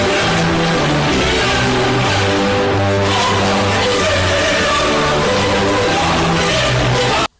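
A truck with a poorly running engine drives along, producing a loud, constant roar of engine and road noise with droning engine tones, which cuts off abruptly at the end.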